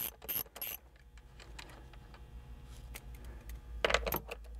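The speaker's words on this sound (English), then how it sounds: "the last step is to remove the remaining four hex nuts with the 10 millimeter socket" Metal clicks and ratcheting from a 10 mm socket wrench taking hex nuts off the console of a C7 Corvette, coming in short bursts with quiet gaps between them.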